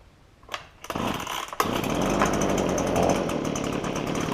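A Husqvarna leaf blower's small two-stroke engine fires after being choked, catching with a few sputters and then settling into a loud, steady, high-pitched roar close by.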